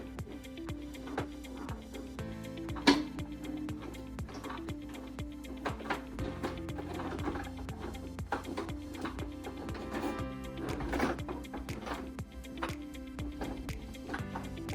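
A sewing machine back stitching a jeans hem, struggling through the thick denim, runs in a steady close mechanical patter of repeated ticks with a few sharper knocks, heard alone without talk.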